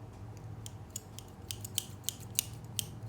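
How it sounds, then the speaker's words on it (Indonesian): Scissors snipping in a quiet room during an idol's live stream, a series of sharp, close metallic clicks spaced irregularly over a low steady background hum, with no talking. "Ini aku ngapain ya membawa gunting?"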